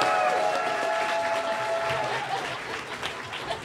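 Audience applause at a horror convention, CT HorrorFest, rolls on as steady, dense clapping from a sizable crowd, with a speaking voice over the start and the clapping loosening slightly toward the close.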